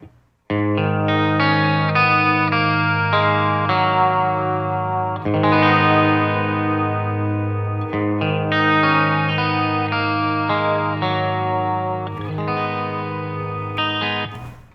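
An electric guitar plays a sustained, chord-based passage through a BOSS Katana MK2 amp modeler, with a shimmering chorus-like tone and a light edge of distortion.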